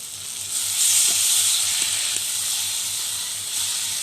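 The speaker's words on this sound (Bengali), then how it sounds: "এটা ভালোভাবে কষাচ্ছি" Puti fish sautéing in a pan gives off a steady, bright hiss and sizzle at close range, with a few soft stirring taps underneath and no talking.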